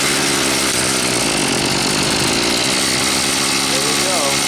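A small engine with a Hitachi carburetor runs after starting with the choke on, a loud, steady high buzzing drone with a voice faintly over it.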